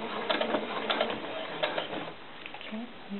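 A sewing machine stitches a simple fabric doll skirt in short whirring runs, close and fairly steady, with faint clicking and a pause near the end.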